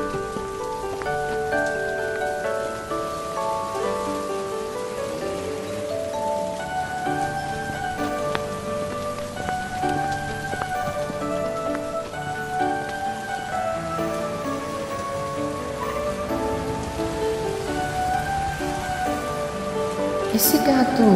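Steady, dense rain falls throughout, a constant hiss that sits under melodic music and grows a little louder near the end.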